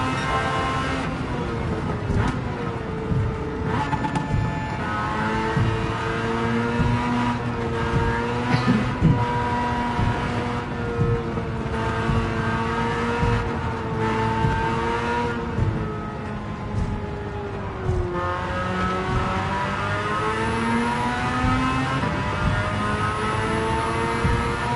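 A Suzuki Cappuccino with a 13B rotary engine swap driven in Gran Turismo 7, its engine note rising and falling through gear changes continuously, with occasional tire squeal.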